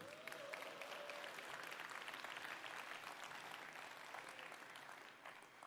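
Audience applause at the Xiaomi 13 series launch event in Barcelona, a steady, dense clapping from a large crowd that holds for several seconds and slowly eases, with a brief whistle-like tone early on.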